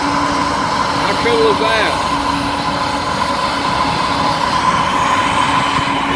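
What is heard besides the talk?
diesel freight locomotive engine running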